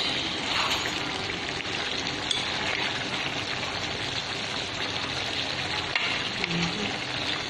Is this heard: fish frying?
yes